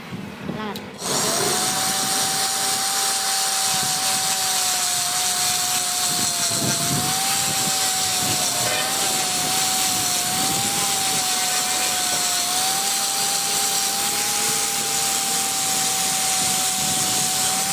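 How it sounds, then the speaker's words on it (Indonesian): A loud aircraft engine roars close by, a steady whining drone that starts about a second in and holds without a break to the end. "Pesawat ini pesawat."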